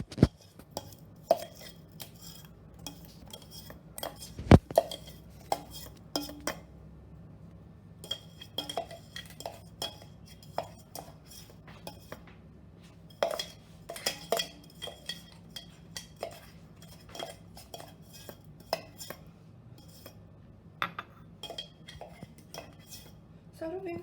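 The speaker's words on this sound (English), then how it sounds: "we'll be spreading it evenly throughout the container with a bowl and a spatula" A spatula spreads butter-blended pie crust evenly in a bowl, producing close, intermittent scrapes, taps and light clinks against the container in an irregular rhythm over a quiet background.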